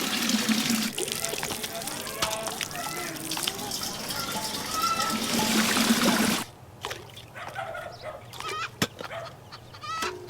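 Water runs and splashes from a tap in a village setting, a steady trickle under people talking, with hens clucking nearby; partway through the flow cuts out and quieter talk and clucking continue.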